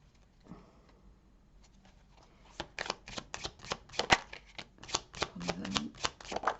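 Tarot cards being shuffled and drawn by hand at close range: after a quiet start with a soft rustle, a rapid run of crisp riffling flicks and slaps follows, with no talk.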